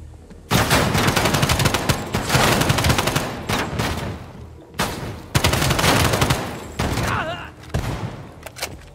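Heavy gunfire in the video game Call of Duty: Black Ops Cold War, with loud bursts of automatic shots and fusillades coming in rapid waves, broken by brief pauses.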